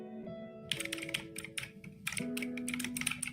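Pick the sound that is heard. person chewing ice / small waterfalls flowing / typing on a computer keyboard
typing on a computer keyboard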